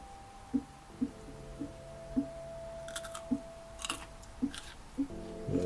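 Crunchy, freshly harvested allotment vegetable, washed and eaten raw, chewed in close, regular crisp bites about once a second, with a few brief handling clicks and rustles; no talking.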